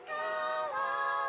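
A rare Tweedle monster from a video game gives a brief tonal call with a steady, buzzy pitch that dips slightly midway, heard alone for just over a second at moderate level.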